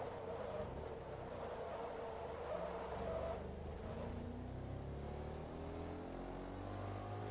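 Audi race car in Forza Motorsport 2 accelerating hard off the launch, a steady loud engine roar with rising gear tones sustained for several seconds, no talking.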